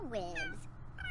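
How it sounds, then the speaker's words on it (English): A cat meows in The Sims 3 video game, a single drawn-out rising and falling meow followed by a brief second call, with a voice talking at the same time. "Oh, look at the little kitty!"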